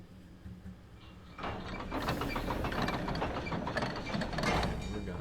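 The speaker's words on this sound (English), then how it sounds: "We have another elevator we can't skip, so we're just gonna take a ride." Elevator ride mechanism in the Van Helsing video game: a low ratcheting, grinding machine rumble that starts up abruptly and runs steadily and fairly loud, with clanking gear-like texture throughout.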